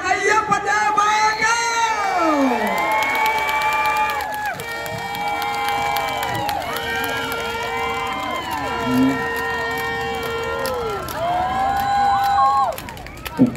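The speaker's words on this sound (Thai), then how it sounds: "ขอเสียงปรบมือให้กับกฤษณ์ อัยยปัญญา" A large outdoor crowd of nearly ten thousand at a political rally cheers and shouts steadily for a candidate, with whoops over a musical backing, loud and continuous throughout.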